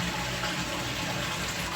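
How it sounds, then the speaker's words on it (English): A toilet flushed with its supply tap isolated, water rushing and draining loudly and continuously from close by. "Now when I flush it,"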